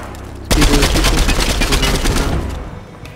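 A rapid, close burst of automatic gunfire from a weapon in the Fortnite video game rattles for about two seconds, then cuts off abruptly.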